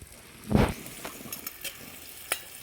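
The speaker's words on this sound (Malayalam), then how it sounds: "ഇനി ഇത് വറുത്ത് കോരി മാറ്റി വെക്കാം" Clams (kakka) fry in a pan close up, with a sharp burst of sizzling and spattering as they are stirred, then a lighter crackle and a few more scraping, sizzling bursts.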